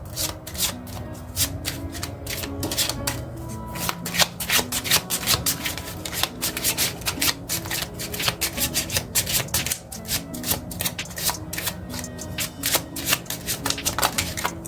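Kipper oracle cards are shuffled by hand in a long, continuous run of close, crisp riffling and rubbing with rapid card flicks throughout and no talking.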